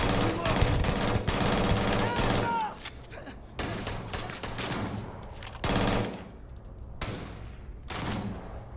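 Rapid bursts of automatic gunfire from the video game Starfield, loud and close, coming in several clustered volleys separated by short pauses, with a few single shots between them.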